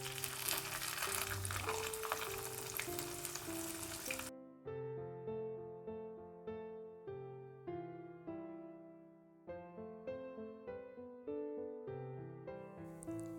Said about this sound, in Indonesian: Goreng ikan dengan minyak yang cukup banyak dan benar-benar panas.